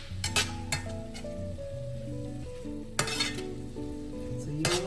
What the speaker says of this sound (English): We're just sauteing it.